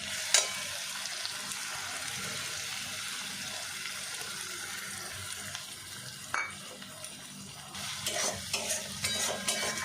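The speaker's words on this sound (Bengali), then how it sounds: "মশলাটা ভালো করে কষিয়ে নেবো আমি" Cumin powder, ground coriander, sour yogurt and Kashmiri and hot chili powders stirred and fried in a pan for a vegetarian jackfruit rezala, a steady soft sizzle with spoon scrapes and a few sharper clinks, no talking.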